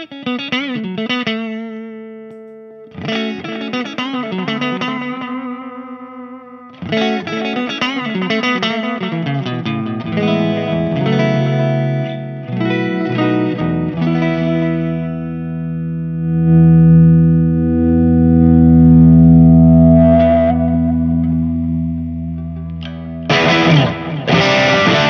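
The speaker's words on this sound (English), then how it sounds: "And use it as a delay pedal." An electric guitar played through a Mad Professor Bluebird overdrive/delay pedal with the distortion turned off rings out in separate phrases and sustained chords, each trailed by repeating echoes, loud and alone with no talk.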